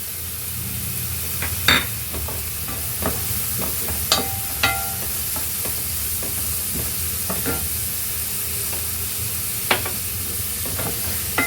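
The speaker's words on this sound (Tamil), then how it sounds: "ஒரு பெரிய வெங்காயம், அதையும் சேர்த்துக்கலாம். சேர்த்துட்டு நல்லா வதக்கி விடுங்க" Chopped onion sautés in oil in a pan, a steady soft sizzle with occasional scraping clinks of a spoon stirring, close and without voices.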